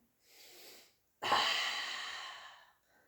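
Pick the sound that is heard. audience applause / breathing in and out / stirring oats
breathing in and out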